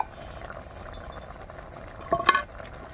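Thick pea ghugni curry simmering in a pot with the lid off, a soft, steady bubbling hiss, then a brief metallic clink and rattle near the end.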